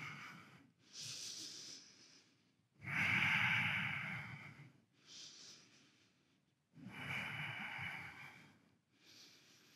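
Slow, deep breaths during a yoga practice alternate between long hissing inhales and exhales, close and fairly loud, with short pauses between them and no talk.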